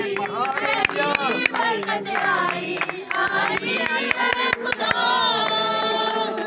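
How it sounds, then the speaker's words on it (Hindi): A worship congregation claps for Mary, sharp hand claps cutting through continuous singing and music, with voices over the rhythm and the clapping staying loud and steady throughout. "मैरी के लिए जोरदार तालियां बजाएं"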